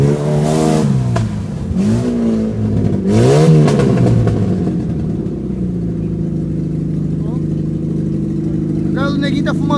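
An off-road trail vehicle's engine revs hard in several rising and falling surges, then settles into a steady, loud drone. Excited voices shout over it.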